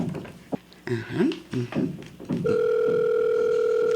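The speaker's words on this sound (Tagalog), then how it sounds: "Agriring ti cellphone na." A cellphone rings with a steady, loud electronic tone starting midway, after a stretch of indoor shuffling and tapping sounds, heard in an Ilocano comedy drama scene about a landlady.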